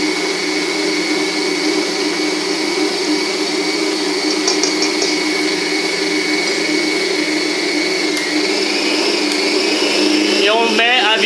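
A steady electric mixer whirrs continuously as it whips chocolate ganache with cream for a homemade giant Mars bar, a constant loud drone with a few faint clinks and a brief scraping flutter near the end.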